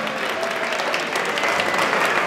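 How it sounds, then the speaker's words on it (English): Crowd applause at a libertarian festival talk in New York, a continuous, fairly loud spread of clapping across the audience for a couple of seconds. "so give them a round of"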